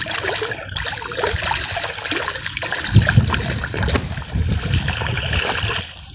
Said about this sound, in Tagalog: malakas ang agos dito